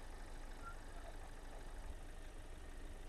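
A diesel car engine idling steadily during a DPF check, a constant low rumble with an even, unchanging drone close by, alone with no talking.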